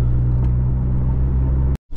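A car rumbles past close by, a loud, steady low drone that ends abruptly with a short silence before the noise returns.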